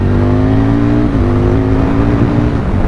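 Aprilia RSV Mille R Edwards Replica motorcycle engine giving a loud, close, sustained bellow under acceleration, its pitch holding and then dropping slightly as the rider shifts, with no talk.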